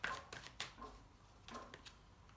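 Tarot cards being shuffled and drawn, heard as several quick, quiet papery riffles and snaps in short bursts, close by, with no talking.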